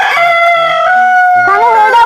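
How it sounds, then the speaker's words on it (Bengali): A rooster crows loud and close in one drawn-out cock-a-doodle-doo of about two seconds, its pitch rising and bending near the end, with no talking. "দিনে 3 বার মুরগির ডাক শুনতে হবে"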